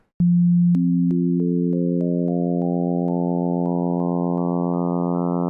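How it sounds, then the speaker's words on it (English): An additive synthesizer's sustained tone starts as a bare sine and gains stacked harmonics one after another in steady steps, each partial entering with a faint click, getting brighter and buzzier over several seconds, loud and alone. "if I go through and I just start removing all these one by one"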